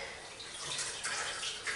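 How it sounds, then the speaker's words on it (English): Water trickles and splashes briefly as a wet cloth is squeezed out, a soft close sound with no voices. "So we will wet our rags, squeeze out all the excess water"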